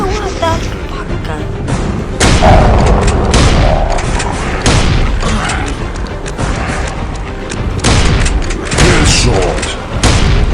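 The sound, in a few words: gunshots in a zombie video game, headshot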